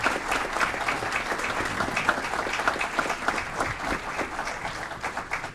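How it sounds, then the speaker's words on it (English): Audience at a city council meeting applauds Anthony Garcia, steady, moderately dense clapping with a few sharper individual claps standing out, continuing throughout without talk. "Big round of applause for Anthony Garcia."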